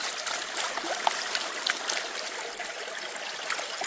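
Water runs through a gold sluice set in a river, making a steady close trickling and rushing wash with small splashy flickers and no talk.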